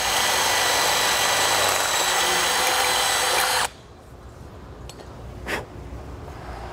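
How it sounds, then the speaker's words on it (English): A power drill whines loudly and steadily for several seconds boring through the metal pipe of an RV ladder, then cuts off abruptly, leaving a quiet room with a couple of small knocks. "That's where we're gonna drill through"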